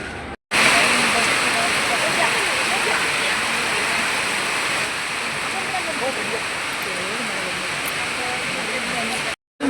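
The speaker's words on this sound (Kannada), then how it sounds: "ಮಳೆಲಿ ಓಡಾಡ್ತಾ ಇದ್ದೀವಿ, ಮಳೆ ಜೋರು." Heavy rain falls steadily while people walk through it in Dharmasthala, a loud continuous rushing hiss from start to finish, with voices faintly audible beneath the downpour.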